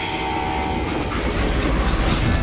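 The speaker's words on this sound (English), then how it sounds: "how'd they stop this train" A steam-era train rolling along in the Western video game Call of Juarez Gunslinger, a steady rumbling clatter of wheels on rails with a sustained whistle tone, loud and continuous with no speech.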